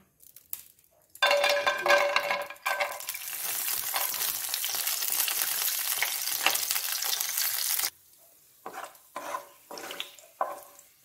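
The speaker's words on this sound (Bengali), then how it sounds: "আমি এবারে তেলে কাজুগুলো আগে ভেজে নিই" Cashews fry in white oil for a Bengali vegetable fried rice, a loud steady sizzle that starts abruptly, holds for several seconds, then cuts off and returns in short bursts of crackling with stirring.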